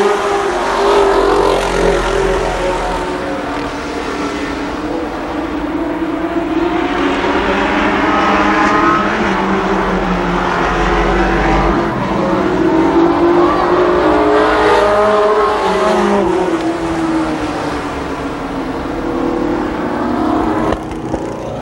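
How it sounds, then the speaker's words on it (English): Race cars accelerate through the third turn at Columbus Motor Speedway in 1993, a dense, loud, continuous engine roar of several cars with rising and falling revs as the pack sweeps past, steady for the whole stretch. "Accelerates into the third turn, and we're ready to go racing."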